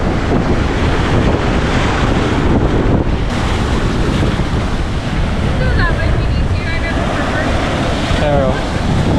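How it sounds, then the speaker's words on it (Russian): Loud, roaring Atlantic surf with large waves crashing continuously on the shore at Atlantic City, heavy wind buffeting the microphone, and a voice calling out briefly near the end. "волны здесь прям большие"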